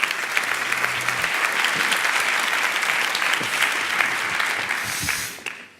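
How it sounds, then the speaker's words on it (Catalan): An audience at the IV Nit Eficiència CEEC evening event bursts into loud, sustained applause, a thick wash of many clapping hands that holds steady and then dies away at the very end. "Un aplaudiment."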